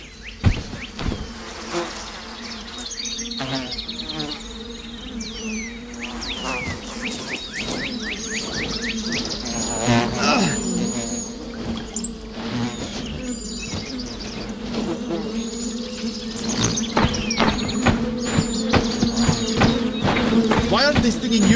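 Swarming bees in a video game buzz continuously and loudly, many overlapping wingbeats rising and falling, joined by sharp game effects and occasional thumps throughout.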